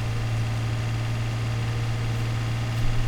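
A tractor engine drones steadily under a heavy soybean load in Farming Simulator 17, a continuous low laboring hum with constant vibration throughout.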